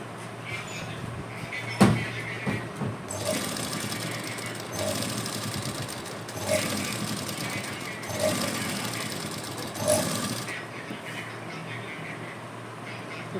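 Sewing machine stitching piping cord and lace, quiet rhythmic bursts of mechanical chatter repeating every couple of seconds over a low hum, with a sharp knock early on and a voice speaking.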